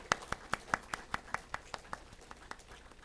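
A church congregation claps in unison during a Sunday worship service. Around a dozen evenly spaced claps keep a steady, quick beat, fairly faint and distant, then grow softer toward the end.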